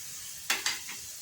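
Leeks sauté in olive oil in a pan with a steady close sizzle, broken by two quick stirring scrapes and a softer third one. No one speaks.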